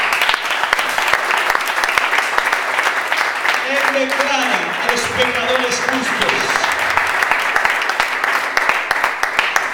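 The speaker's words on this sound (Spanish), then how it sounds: "Esto se merece un aplauso." Congregation applauding at a church service, a steady wash of clapping running throughout while a preacher keeps speaking over it and a brief sung or voiced tone rises mid-way.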